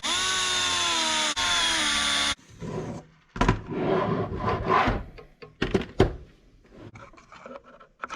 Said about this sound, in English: And then you can install these screws.